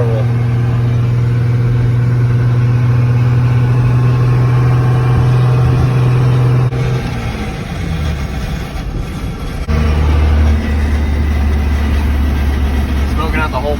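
Damaged Cummins diesel engine in a truck revving loudly and roughly, a steady droning roar that drops off briefly midway then surges back, with people talking over it.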